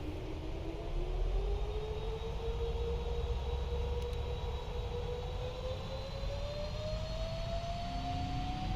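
Boeing 777 jet engines spooling up for takeoff in the Prepar3D v5.4 flight simulator, a loud continuous roar with a whine rising steadily in pitch throughout.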